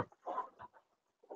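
Black, gold and red chickens cluck on a homestead, a few short soft clucks close by, with quiet gaps in between.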